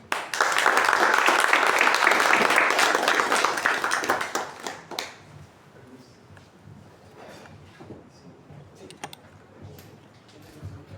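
Audience applause greets guests at an anthology launch during a publisher's anniversary evening in Asunción: loud, dense clapping for about four seconds, then tapering into scattered claps beneath low murmuring.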